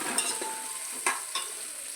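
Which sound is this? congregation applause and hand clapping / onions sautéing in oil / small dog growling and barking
onions sautéing in oil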